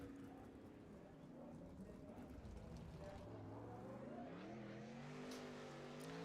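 A sprint car runs on the Williams Grove dirt track, its engine note rising and falling in pitch at moderate distance, under an announcer's voice over the PA.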